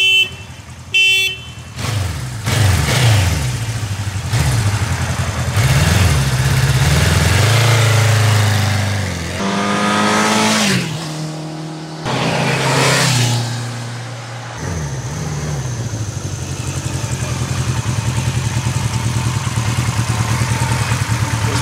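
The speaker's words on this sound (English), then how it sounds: "I'll just do a drive-by so you can see how it looks rolling down the road." A 1976 Kawasaki KZ900 motorcycle with stock exhaust pipes rides past on the road, its engine building, revving through gears and rumbling loudly as it passes close, then fading into the distance.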